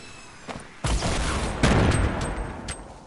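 Grenade explosions in a high-explosive mode of a shooter video game, two heavy booms about a second apart followed by scattered crackling blasts, loud and close, with no talking.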